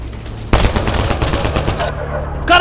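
Rapid automatic gunfire rattles in a continuous loud burst during a Mass Effect Andromeda firefight, starting abruptly and holding steady for about two seconds before a brief higher crack at the end.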